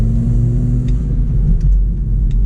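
A manual transmission car driven by alternating brake and gas, heard from inside as a loud, steady low engine rumble with slight surges and no distinct shifts.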